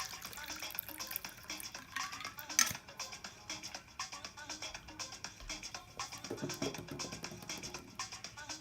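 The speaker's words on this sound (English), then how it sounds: "Give your vacation a nice pour." A cocktail being poured into a glass, giving a close, splashy liquid pour with light clinks of glassware, moderately quiet.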